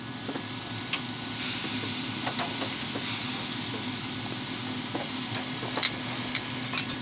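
Chicken sizzling on a Yoder YS640 pellet grill at 405 degrees, a steady close hiss of frying and steam with scattered sharp pops and crackles, no voices.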